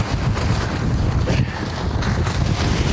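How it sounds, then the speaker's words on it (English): Strong wind buffets a tent and the microphone at a hunting camp, producing a loud, constant roaring rumble with gusty surges throughout. "The wind is absolutely horrible."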